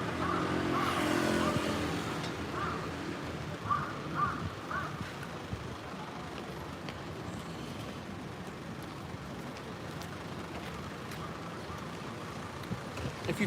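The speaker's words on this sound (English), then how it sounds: "The crows are going crazy for it." Crows cawing in the busy street near Harajuku Station and Takeshita Street, a few short caws standing out around the four-to-five-second mark over steady crowd and traffic noise.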